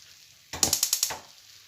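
Onions fried in a pan for chicken liver stir-fry, with a short burst of about six rhythmic sizzling, scraping strokes after a near-silent start.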